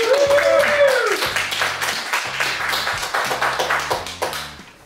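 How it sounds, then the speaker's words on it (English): Scattered clapping and a whoop for a man finishing a burger challenge at a restaurant, fairly close, with background music and chatter running underneath. "Everybody give him a round of applause"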